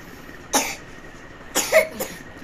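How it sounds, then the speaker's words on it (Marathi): A man gives a few close, harsh coughs at home in a family setting: one short cough, then a pause, then a quick cluster of two or three more, with no talk. "कसं खोकलते पप्पा"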